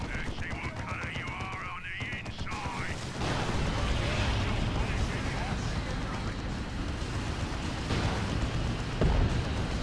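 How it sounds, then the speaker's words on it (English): Ork battle wagon firing on a bunker in Dawn of War II: Retribution, a dense rumbling barrage of shots and blasts that swells louder partway through, with game voices and music over the top. "Battle wagon, shoot the bunker."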